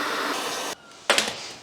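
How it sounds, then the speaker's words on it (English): A vacuum cleaner sucks up deteriorated sound deadening from inside a classic Mini, a steady broadband roar that cuts out briefly, then surges back loud and close. "we're first gonna vacuum out the deteriorated sound deadening"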